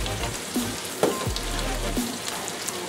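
Garlic fries in a pan with a steady, close sizzle and crackle, joined by a few clanks and scrapes of utensils against the pan. Nobody speaks.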